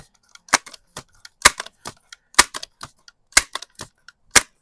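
Crosman Vapor Max air rifle shots ringing off a big black steel plate target: five sharp, loud metallic impacts spaced about a second apart, each with fainter clicks and rattles between.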